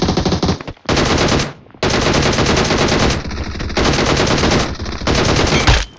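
Gunfire at bots in the mobile video game PUBG Mobile Lite, heard as several loud, rapid automatic bursts separated by brief pauses, close and dominant throughout.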